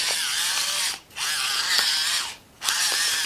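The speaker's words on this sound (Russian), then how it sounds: "у нас вот свежемолотый получается этот перец" A hand pepper mill grinds black pepper over seasoned chicken breast in a home kitchen, giving close, loud, gritty crunching in three long twists separated by short pauses.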